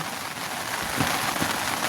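Steady monsoon rain falls on a hilltop in the countryside, a continuous close hiss that swells slightly partway through, with no voices.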